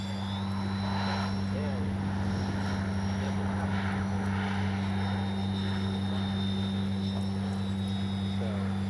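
FlightLine OV-10 Bronco RC model plane with twin propellers flying a touch and go on a windy day, a steady droning hum with a higher whine over wind buffeting, while people talk nearby.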